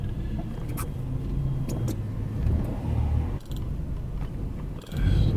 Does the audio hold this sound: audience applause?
no